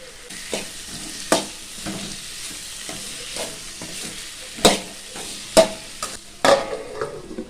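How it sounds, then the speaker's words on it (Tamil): Finely chopped tomatoes fry with masala in a pan for a green pea and potato gravy. A steady, close sizzle carries on throughout, while sharp stirring scrapes and clinks sound at irregular moments. "இப்போ 3 தக்காளி பழத்தை இந்த மாதிரி பொடிசா கட் பண்ணி வச்சிருக்கிறேன், இதையும் சேர்த்துக்கலாம்"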